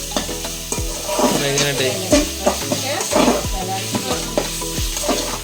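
Ghee rice stirred in a cooking pot, with repeated rhythmic scraping strokes over a continuous sizzle, close and fairly loud, and a brief voice.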